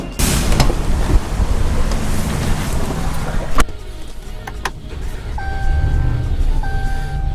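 A car engine starting and then idling after an engine bay cleaning, beginning with a loud whooshing rush, then a sharp mechanical bang and a steadier running hum with faint squeals, heard close with no talk.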